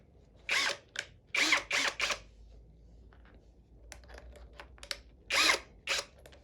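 Small battery-powered universal screwdriver from AliExpress whirs in several short, sharp bursts, with brief pauses and light handling clicks between them, close and alone.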